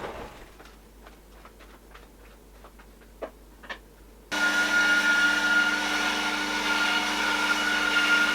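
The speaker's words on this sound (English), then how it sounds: "I'm just going to go over to the bandsaw and just cut the ends off" Light ticks and clicks give way to a bandsaw switching on with a loud, steady, close whirring hum as it trims the ends off a pencil-and-resin ring blank.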